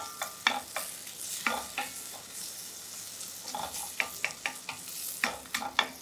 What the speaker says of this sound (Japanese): ソーセージ、 はい、強火です。 ここでカリッとうまみを出します。